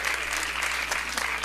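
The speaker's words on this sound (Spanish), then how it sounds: "Les pido un fuerte aplauso para Guillermo Cepeda Lecona y Virgilio Tanú" An audience at a seminar panel on criminal justice reform applauds the speakers with dense, continuous clapping that holds steady throughout.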